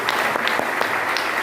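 A seminar audience in Varanasi claps loudly, a dense burst of applause with sharp individual claps standing out, heard on its own without talk.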